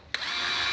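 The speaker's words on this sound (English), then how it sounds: "I had an old valve stem laying around, just chucked that in the drill" A power drill whirs into motion with an old valve stem chucked in it, spinning the valve of an old Yamaha TT350 motorcycle engine. The steady, close whine starts abruptly and holds for under a second.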